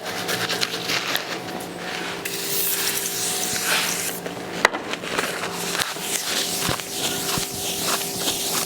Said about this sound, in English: I like to spray it down and then wipe off the excess with a cloth